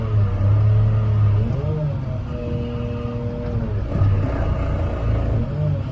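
A Caterpillar 950 wheel loader's diesel engine rumbles close and loud, its pitch rising and falling in repeated revs as the accelerator is pressed, with someone speaking briefly over it.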